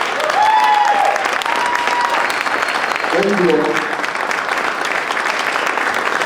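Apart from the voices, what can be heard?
round of applause for everybody on stage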